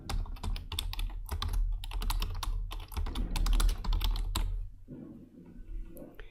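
Keystrokes on a computer keyboard while branding text is entered for social media images, a dense run of close, crisp clicks for several seconds, thinning near the end, with no one speaking.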